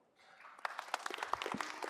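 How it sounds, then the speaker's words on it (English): Applause breaks out in a city council chamber after a consul general is introduced, swelling from quiet into a steady burst of many hands clapping at moderate distance. "Please, a round of applause for Mr. Consul General Kim Young-won."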